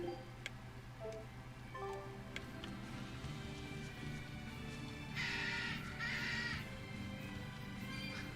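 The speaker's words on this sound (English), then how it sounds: "That bird was kind of spurging out." A bird in the Tales of Berseria video game caws in two harsh bursts midway through, over steady game music and ticking background sounds.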